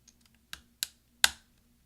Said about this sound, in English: we're going to push down with our finger until all the clips catch